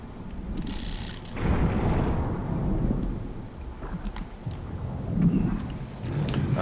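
Thunderstorm on an extreme-weather planet in No Man's Sky: a steady, heavy roar of wind and rumbling storm noise with low thunder swells rising and falling throughout, no voices.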